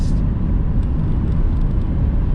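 A Tesla Model Y Performance accelerates wide open on a race track, giving a loud, steady broadband roar of wind and road rumble heard from inside the car, with no speech over it.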